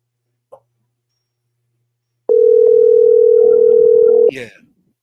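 After a faint click, a telephone call being placed gives a loud, steady tone lasting about two seconds, then it cuts off into a brief trailing noise.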